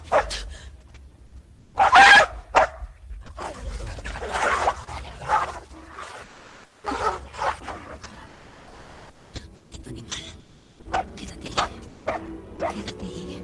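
A dog barks in several loud, sharp bursts spread across the scene, with whimpering yips and people speaking Spanish in between.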